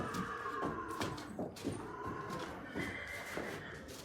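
Horses neigh and whinny at a stud farm in Sirsa, Haryana, with several fairly close calls spread across a few seconds over a busy, noisy background with faint hoof clatter.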